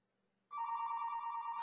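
A phone begins ringing suddenly after a near-silent moment, a steady electronic ring tone that holds loud and continuous to the end.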